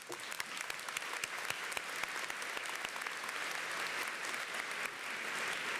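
An audience at a Ferris State University fall commencement ceremony applauds, a soft, even patter of many hands heard from a distance, sustained without a break and with scattered louder claps throughout.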